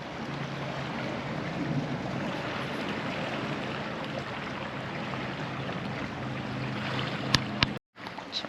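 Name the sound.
boat crossing on the water off Mallorca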